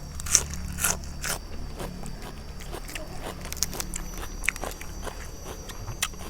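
Crunchy cuttlefish being bitten in a spicy Thai-Lao papaya salad with fermented fish sauce and rice noodles, heard up close as a run of sharp crisp bites and chews at an irregular pace.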